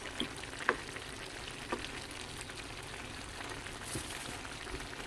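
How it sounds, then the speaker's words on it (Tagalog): Ginataang langka, a jackfruit stew with coconut milk, shrimp, pork and plenty of chili, simmering in a pot with a steady low bubbling and sizzling hiss, plus a few faint clinks of stirring. "Hayaan lang muna natin kumulo yan"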